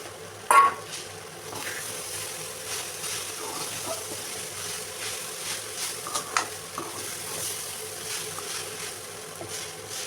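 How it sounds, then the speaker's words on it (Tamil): Cooked rice stirred into egg and vegetables frying in a pan, with steady low sizzling, scraping and clinks of a spoon, one sharp knock near the start, no talking. "இப்போ நம்ம வடித்து வச்சுருக்க சாதம் அதையும் சேர்த்து இதோடு மிக்ஸ் பண்ணிக்கோங்க."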